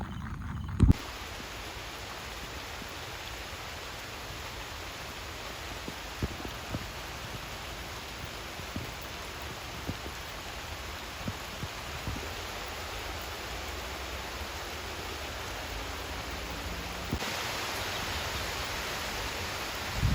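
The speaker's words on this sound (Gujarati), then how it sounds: "વરસાદ ચાલુ છે, જોઈ લો" Steady rain falls on a farm, a dense, even hiss that holds for about twenty seconds, with a few soft taps and rustles underneath and no voices.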